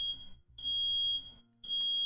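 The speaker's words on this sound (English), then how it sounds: "the fire alarm's going on" Fire alarm going off indoors, a piercing high electronic tone sounding in long sustained blasts broken by brief gaps, loud and close with no speech over it.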